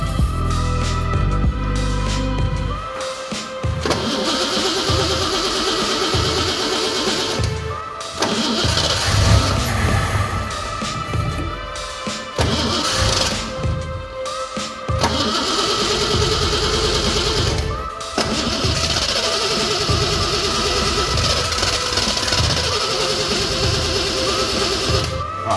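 A Datsun Super 6 engine cranks on a jump pack and tries to catch in repeated bursts, sputtering and dying between attempts, loud and close.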